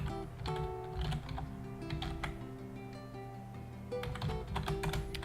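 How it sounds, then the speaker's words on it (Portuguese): Keystrokes on a computer keyboard entering a Google search query, a close, steady run of clicks with brief pauses between bursts, alone with no talk. "você vai digitar in title, dois pontos e os termos de pesquisa que você quer"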